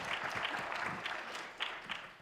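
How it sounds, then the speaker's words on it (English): Applause from an audience at a zero-waste festival talk, honoring the speaker's older sister: moderate, steady clapping of a modest crowd, fairly distant, with a few louder claps standing out near the end. "Everyone, a round of applause for my older sister."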